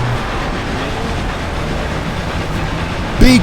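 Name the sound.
train running in the video game Forza Horizon 2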